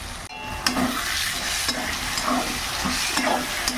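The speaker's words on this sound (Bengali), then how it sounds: "এবার টমেটোগুলো দিয়ে দেবো আমি বড় বড় করেই কেটে নিয়েছি" Chopped tomatoes frying with meat masala in an oiled pan, giving a steady, close sizzle with repeated scraping stir strokes about every second, and no voices.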